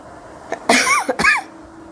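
A person coughs twice in quick succession at close range, two short harsh bursts over a quiet background with no talking.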